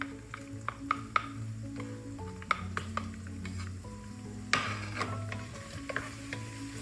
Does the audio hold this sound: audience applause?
no